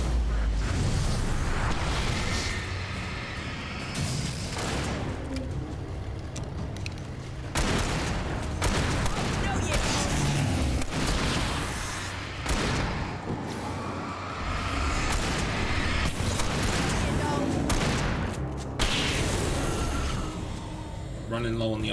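Repeated shotgun blasts ring out in Alan Wake Remastered, loud irregular booms spaced a few seconds apart amid dense combat noise, with someone talking over the fight.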